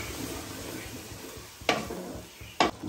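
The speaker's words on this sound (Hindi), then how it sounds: "और अब पिसे हुए टमाटर डालेंगे।" Ground tomatoes go into chicken frying in a pan, producing a steady sizzle with two sharp bursts of louder hissing near the end, close by and without talk.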